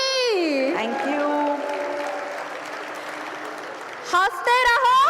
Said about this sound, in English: can we hear a big round of applause for Himani ji?